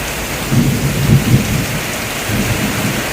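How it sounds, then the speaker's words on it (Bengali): Heavy rain pours steadily during a strong thunderstorm while low thunder rumbles roll through twice, with no talk heard. "আর যেমন বিদ্যুৎ চমকাচ্ছে কি বলবো, তেমন বৃষ্টি হচ্ছে।"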